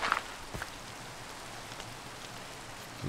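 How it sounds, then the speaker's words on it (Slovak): Rain falls in the Minecraft video game as a soft, steady patter held faint and low throughout, without voices. "počkáme, kým prestane pršať"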